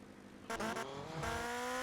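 A car drives in the game GTA Vice City, its engine rising in pitch as it speeds up, with a burst of tire squeal near the start, loud and close with no talk.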